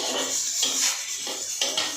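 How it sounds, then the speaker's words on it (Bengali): Chopped cabbage added to a pan of frying spices gives a bright, close sizzle with a few utensil scrapes and clinks against the pan. "মশলা প্রায় ভাজা হয়ে আসছে এখন বাঁধাকপিটা দিয়ে দেবে"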